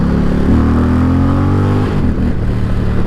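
An Indian Challenger motorcycle accelerates hard, its engine roaring loud and close with a deep, rising rumble that briefly dips as it shifts, then pulls on.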